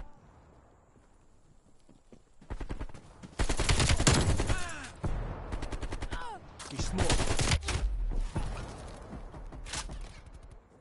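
Gunfire in the video game Call of Duty: Cold War: loud, dense bursts of rapid shots that start after a quiet opening and come in several long volleys, mixed with other busy in-game effects.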